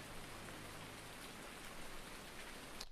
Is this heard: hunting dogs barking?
no